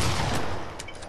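A brief loud crackle of video game gunfire, a dense noisy burst with a couple of sharper shots near the end, lasting about a second.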